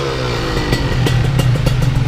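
A Kawasaki Ninja RR two-stroke motorcycle fitted with a PE28 carburetor idles while warming up after two weeks unused, a loud close steady engine drone with rattly clattering pops.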